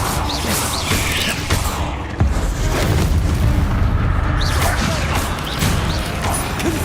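A Confringo blasting spell explodes in Hogwarts Legacy: a dense run of booming blasts and crashing debris, steady and loud, among grassy catacomb ruins.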